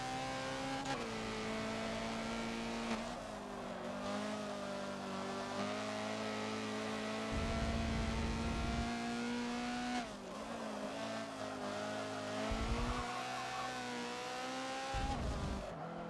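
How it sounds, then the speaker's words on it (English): Honda CRX race car engines on a track in a Forza video game: a sustained, buzzing engine note that rises and falls through gear changes, with several cars' engines overlapping and brief heavier rumbles from other cars passing close. "That is a whole gaggle of cars there in front."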